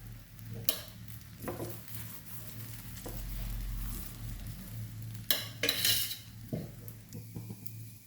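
Sweet potato paratha cooking in half a teaspoon of oil on a pan, with faint sizzling and frying under a low kitchen hum, broken by a few clinks and scrapes of a utensil against the pan.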